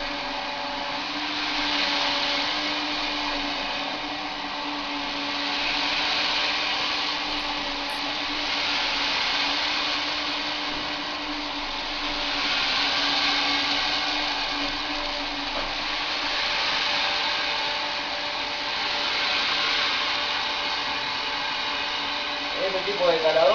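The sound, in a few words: hydraulic grain sampling probe machine running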